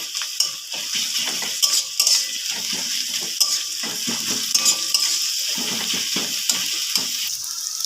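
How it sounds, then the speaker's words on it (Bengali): Garlic fries in a pan for egg chowmein, a soft steady sizzle broken by repeated close scrapes and clinks of a spatula stirring against the metal. "রসুনটা 1 মিনিটের মতো ভেজে নিয়েছি"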